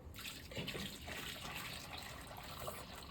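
Cooked crab apple juice drains steadily from the fruit through a strainer, a soft continuous trickle of liquid at low level with no talk over it.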